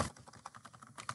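A web address typed quickly on a computer keyboard, a brief close run of soft, rapid key clicks with no voice over them.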